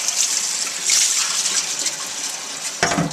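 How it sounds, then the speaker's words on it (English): Running water from a tap gushes steadily over a cast iron skillet being rinsed, close and loud, with a brief splashy clatter near the end. "give it a good rinse"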